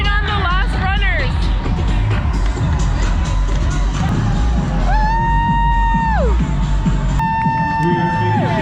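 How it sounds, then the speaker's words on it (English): At the finish line of the Lululemon SeaWheeze half marathon, a loud crowd cheers the last runners with continuous whoops, yells and sustained shouted calls, and voices talk close by. "we made it to the finish line. We're cheering on the last runners."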